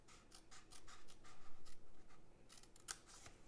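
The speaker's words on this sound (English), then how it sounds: "we're going to cut up the 4th score line in from the left up to the 4th horizontal score line" Scissors snipping along a score line in cardstock for a shadow box, a quiet series of soft rhythmic cuts with light rubbing.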